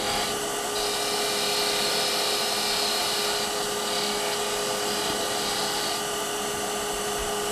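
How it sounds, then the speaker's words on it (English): A Hunter Hercules tool makes a bevel rubbing cut on a wood lathe, giving a loud, steady whirring hiss that holds evenly throughout with little variation. "So we'll do a bevel rubbing cut on both of these sides so I can show you the difference in the quality of the cut"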